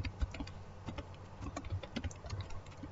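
Rapid, uneven keystrokes clatter on a computer keyboard, close and fairly quiet, with a low hum beneath the clicks.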